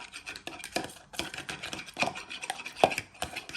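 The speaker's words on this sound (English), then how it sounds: "Now you want to start giving your eggs a nice little beat so they are all whisked in together." Eggs beaten with a utensil in a bowl while making homemade spaghetti, giving rapid, irregular clicking and tapping close up, with no voices.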